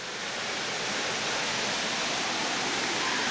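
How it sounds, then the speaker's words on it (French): A year-round waterfall in a peaceful mountain setting gives a steady, dense rushing roar that stays constant and loud throughout, with no voices. "Été comme hiver, cette cascade qui ne sèche pas"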